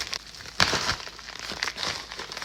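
Plastic kit packaging crinkles and crackles as it is opened with scissors, a few sharp bursts of crinkling amid quieter rustling, close and alone.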